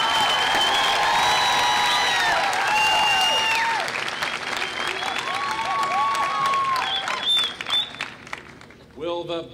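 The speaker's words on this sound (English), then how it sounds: "Let's have another round of applause for our master's degree students" A large audience applauds steadily for master's degree graduates at a 2013 Columbia Southern University graduation ceremony, a broad wash of clapping with scattered whoops, thinning toward the end as a voice begins speaking.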